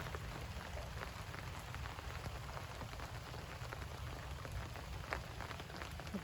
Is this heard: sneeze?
no